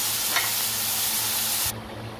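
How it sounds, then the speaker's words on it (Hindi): Minced keema frying in oil in a pan gives off a loud, steady sizzle that runs on, then drops off sharply near the end. "5 मिनट मैंने इसको फ्राई किया है ऑयल में कीमे को"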